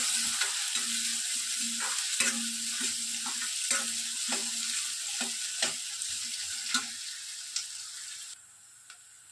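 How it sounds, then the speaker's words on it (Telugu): Thinly sliced onions fry in oil in a pan, a steady sizzle punctuated by regular scraping and tapping stirs, heard close and alone before the sizzle thins out at the end. "ఆనియన్స్ ఎంత బాగా ఫ్రై చేసుకుంటామో కర్రీ అంత టేస్టీగా వస్తుందండి"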